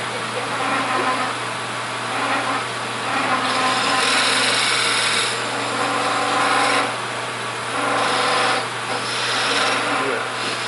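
A wood lathe spins a workpiece for a three-leg stool while a drop nose scraper rasps against the wood, a steady motor hum beneath intermittent scraping swells, with people talking over it.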